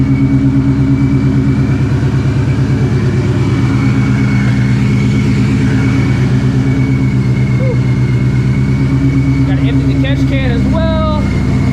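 A 900 hp Shelby GT350 running on E85 fuel, with a twin-disc clutch, idles steadily up close in a loud, continuous rumble that holds throughout, with faint chirps near the end.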